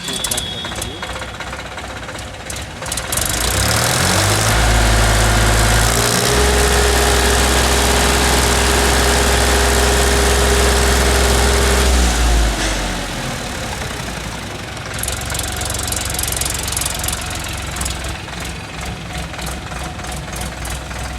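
An Indofarm 3048 DI tractor diesel engine cranks, catches and revs up into a loud, deep, throbbing roar held for several seconds before dropping back to a knocking idle, with someone talking over it.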